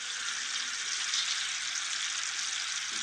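Jalebis fry in hot oil with a steady, even, hissing sizzle, close and fairly quiet, and no voices over it.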